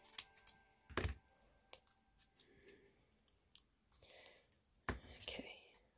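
Scissors snipping a paper sticker, a few sharp close cuts in short bursts, with quiet rustling and faint whispery sounds between them.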